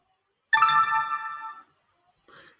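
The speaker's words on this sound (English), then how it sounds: "you'll hear a little bell ding, and that means that we are done" A render-completion bell in Maya software rings once, a bright, clear chime that decays over about a second, followed by a short fainter tone after a pause, with no talk.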